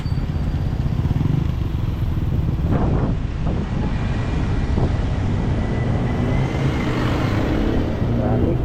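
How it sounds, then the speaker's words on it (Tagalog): Road traffic of cars and motorcycles on a Filipino street during a road trip, a steady close rumble of engines and wind with passing vehicles swelling by, no talk. "Traffic tayo dito."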